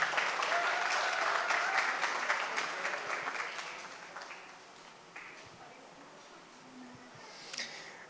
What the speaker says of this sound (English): Give another round of applause, everyone.